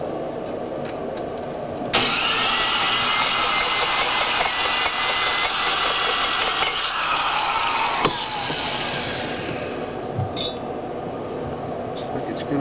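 A valve seat grinding machine cutting Harley-Davidson intake valve seats gives a sudden loud, dense grinding hiss that starts sharply, holds steady for several seconds and then drops to a softer whir, with occasional clinks.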